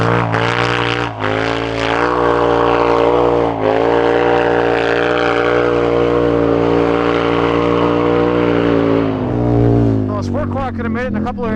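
A Polaris Scrambler 1000 ATV engine drones loudly and steadily while riding through snow on a winter ditch run, holding a sustained revving tone close by that briefly dips and then shifts near the end.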